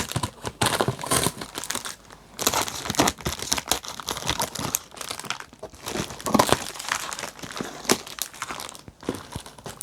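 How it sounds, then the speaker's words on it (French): A parcel is opened with scissors, continuous crinkling, tearing and rustling of packaging close by, busy and irregular throughout with no talk. "Donc je vais ouvrir le colis."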